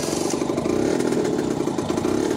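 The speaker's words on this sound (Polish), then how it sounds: "Motor praktycznie zapala" A Skyteam motorcycle engine, one that starts readily but is slow to rev, running at a steady idle with a buzzing mid-pitched drone, close and continuous with slight flutter, no talk over it.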